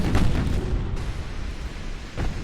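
Torpedo strike on a warship in the naval battle game Ultimate Admiral: Dreadnoughts, a deep booming explosion that rolls into a long low rumble, loud and near, with a softer thump near the end.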